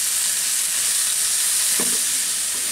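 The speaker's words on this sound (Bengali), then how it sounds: "এখন এই চিচিঙ্গাটা সহ আরো 1 মিনিটের মতো ভেজে নিব" Ridge gourd fries with winter vegetables for a Chinese-style vegetable dish, giving a loud, even, close-up sizzle that fills the whole moment, with one brief stirring knock near the end.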